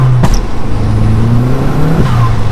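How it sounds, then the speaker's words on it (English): An Audi S3 engine revs hard through a third gear pull, a loud, close, rising drone with a sharp pop near the start and a brief shift-like break before the tone climbs again, no talk. "Third gear pull, yeah, 3000 RPM."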